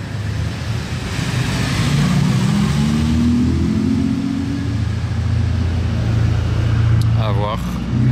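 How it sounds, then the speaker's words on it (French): Vintage Ferrari 330 passing by on a road, a steady engine rumble building and holding fairly close for several seconds amid general traffic noise, with no talk over it. "Qu'est-ce qui arrive là-bas? Une ancienne Ferrari. C'est quoi ça? C'est une 330?"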